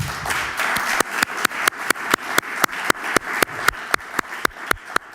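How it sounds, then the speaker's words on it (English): Rhythmic clapping from an audience welcoming a speaker at a nature-rights talk, sharp claps in a steady beat, close and distinct with no talk over them. "give her a warm applause."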